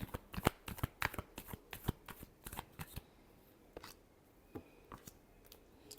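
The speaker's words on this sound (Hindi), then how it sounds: "Last shuffle." A deck of tarot cards being shuffled close up, a rapid run of crisp riffling flicks and slaps that thins out into a few scattered taps near the end, with no voices.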